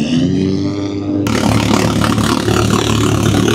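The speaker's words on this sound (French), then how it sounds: "c'est un moteur Polaris 4 cylindres" A Polaris four-cylinder engine in a Dakar rally vehicle running steadily at close range, a humming idle that turns into a louder, rougher clattering roar partway through.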